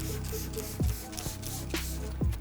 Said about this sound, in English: So what you do is you're going to take a fine mist over the glass